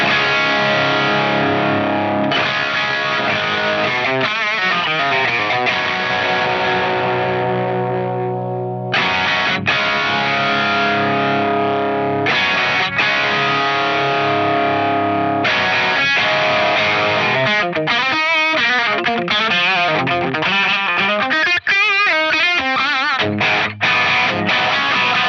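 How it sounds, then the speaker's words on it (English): Fractal AX8 modelling a fully cranked Plexi amp with speaker drive pushed to extreme values: heavily distorted electric guitar playing sustained chords and riffs, loud and continuous, with a brief gap near nine seconds. "but I'll show you what it sounds like at extreme values."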